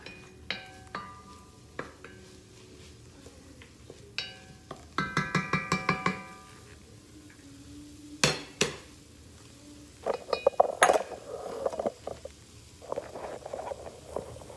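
Vegetables sweating in oil are stirred in a cooking pot for split pea soup, with scattered clanks and scrapes of a utensil against the pot, a brief run of rapid taps, and soft sizzling in between.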